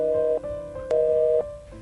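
A telephone line sounds a steady electronic tone after a call is hung up, heard close in two brief pulses with a short gap, alone.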